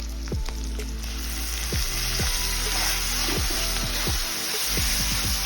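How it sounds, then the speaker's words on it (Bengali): A paste of green chili, ginger, onion and garlic sizzles loudly in hot oil over fried onions, a constant close hiss broken by repeated sharp clinks of a spoon or spatula against the pan. "কাঁচা লঙ্কা আদা পেঁয়াজ আর রসুনের পেস্ট আমি তেলের মধ্যে দিয়ে দেবো"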